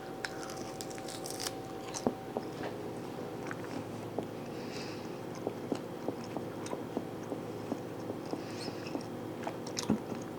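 Close biting and chewing of smoked beef jerky made on an electric smoker, with soft repeated crunchy, squishy chews scattered evenly across the clip and no talk.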